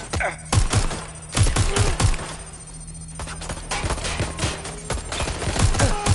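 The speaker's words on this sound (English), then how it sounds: "Shots fired!" Gunfire in a video game firefight: dense rapid bursts of shots crackle close and loud in irregular clusters, with short lulls between volleys.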